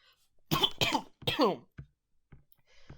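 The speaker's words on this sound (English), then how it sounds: "I need to cough quickly." A few harsh, throaty coughs burst out close by in quick succession, then fade into faint, scattered noises.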